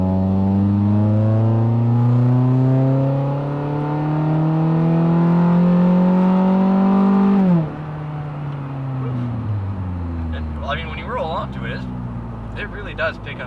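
A 2013 Scion tC engine revs steadily upward, drops sharply as the gear changes, then climbs again, loud and close throughout.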